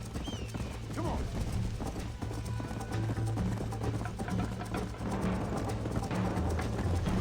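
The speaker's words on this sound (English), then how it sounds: "I think you chose the wrong horse, Miss McFarland." Horse galloping in the Red Dead Redemption video game, a rapid continuous run of hoofbeats with a brief whinny, loud and close under game music and talking voices.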